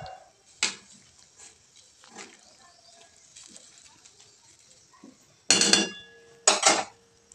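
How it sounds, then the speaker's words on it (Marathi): Cabbage vegetable with salt being stirred in a pan, heard as scattered soft scrapes and light metallic clinks, then two louder bursts of clattering stirring near the end, with no talking. "परत एकदा आपल्याला ते सगळं हलवून घ्यायचंय, की जेणेकरून ते मीठ सगळीकडे पसरेल"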